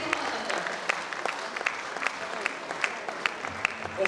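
Audience applauding at a concert as a performer is called back to the stage: a sustained patter of many hands with sharper individual claps, moderately distant, with a voice speaking over it.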